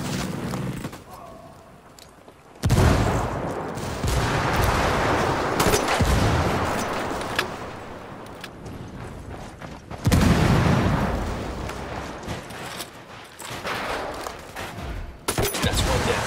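Heavy gunfire in Ghost Recon as a squad opens up: dense bursts of rifle and automatic fire crackle close and loud, with a second volley surging in midway; muffled voices sit faintly beneath the shooting.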